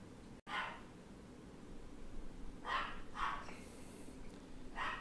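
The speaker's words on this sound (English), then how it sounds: "I keep being distracted by the dog barking." A dog barks faintly in the distance, four or so short barks spread over a few seconds against a low steady background hum.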